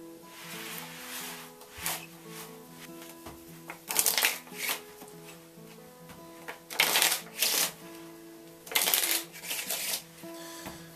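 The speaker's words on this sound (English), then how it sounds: "Now let's shuffle all these together and we'll do a quick review." Plant identification cards being shuffled together, with repeated bursts of riffling and snapping in a clear, rhythmic pattern over a faint steady background tone.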